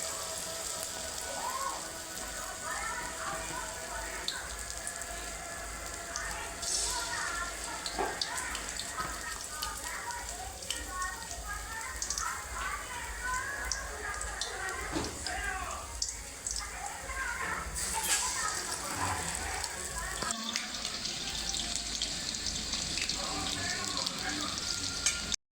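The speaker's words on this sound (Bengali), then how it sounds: "এইভাবে ভেজে নেবেন এক এক করে।" Chicken satay pieces frying in hot oil give a steady, dense sizzle with fine crackling pops that runs unbroken throughout, close and moderately loud.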